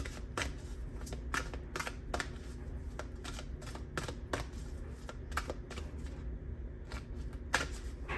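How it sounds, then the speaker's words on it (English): Tarot cards shuffled close up, a steady stream of quick, crisp flicks and snaps with no voices. "let me shuffle this over here."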